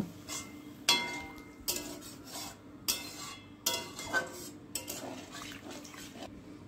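A spoon scrapes around a pan, stirring sugar and salt for a Bengali okra posto dish in roughly six distinct strokes over a low background hum, with faint liquid sounds as water goes in.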